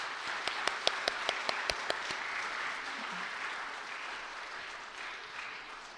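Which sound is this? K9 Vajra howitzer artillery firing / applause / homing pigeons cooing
applause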